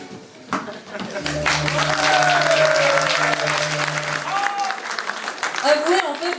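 Audience applause at the Donjon de Naheulbeuk festival in 2018, a crowd clapping loudly and steadily under a sustained musical chord, with voices mixed in before the clapping thins toward the end.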